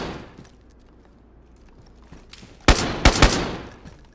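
Gunfire in the video game DayZ, heard as three sharp, loud cracks close together near the end, following a stretch of quiet background ambience.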